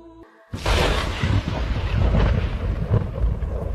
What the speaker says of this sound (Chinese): 一声惊雷打破山夜寂静